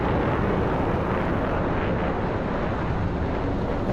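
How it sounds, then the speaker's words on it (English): A jet aircraft in the DCS flight simulator game roars past as a steady, loud, broadband rushing noise with no talk. "That jet you heard is probably Warhawk."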